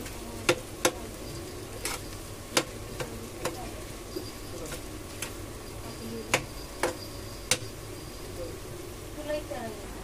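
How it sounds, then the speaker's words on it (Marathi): Onions frying and being stirred in a pan for chicken dum biryani: sharp, scattered spoon clicks against the pan over a low, steady sizzle, with a voice talking at times. "त्याला चांगलं तळून घ्यायचं कांद्याला"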